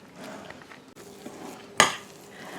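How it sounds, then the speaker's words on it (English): Blackberry crumble mixture being stirred in a bowl, with soft scraping and one loud clatter of utensil against the bowl midway. "let's just mix all this up until everything is mixed"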